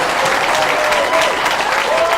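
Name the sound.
audience applause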